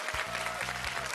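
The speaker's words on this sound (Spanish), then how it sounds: "Aplauso para los azules." Studio audience on a Chilean Pasapalabra game show applauds the blue team in a brief, steady burst, with a low tonal musical sting sounding beneath it.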